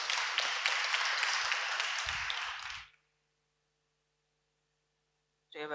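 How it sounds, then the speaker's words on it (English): A crowd applauds loudly for about three seconds, fading out into silence, followed by a brief burst of voice at the very end. "Let's give him some round of applause as he's coming on stage."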